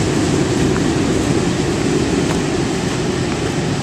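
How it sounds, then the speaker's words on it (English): A steady, loud rumbling roar of a train rolling by nearby, constant throughout with faint rhythmic clicks from the rails. "I love watching the trains pass."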